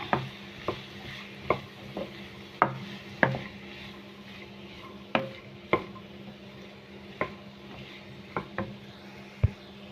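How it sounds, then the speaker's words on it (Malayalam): Bitter gourd stir-fry with tomato is stirred in a pan, with a spatula knocking and scraping in irregular close taps over a faint steady sizzle. "വീണ്ടും നല്ലോണം ഒന്ന് ഇളക്കി കൊടുക്കുക"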